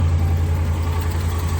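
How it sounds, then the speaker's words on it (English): A 2012 Ram engine with about 229,000 miles idles with a ticking exhaust leak, a steady low rumble throughout the short stretch with no talk over it. "You can hear the exhaust tick leaking"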